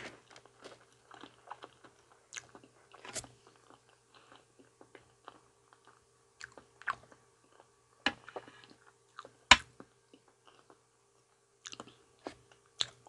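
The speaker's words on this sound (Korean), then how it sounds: "제일 처음에 바나나 먹어볼게요." Someone eats a sweet banana close to the mic, with soft, sparse chewing and wet mouth sounds broken by short pauses and a few sharper crunchy clicks, in an otherwise quiet room with no talking.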